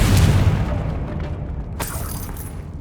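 Confringo fire spell in Hogwarts Legacy: a loud, dense blast with a deep rumbling boom that rolls and decays over a few seconds, with a sharp crackling burst near the end.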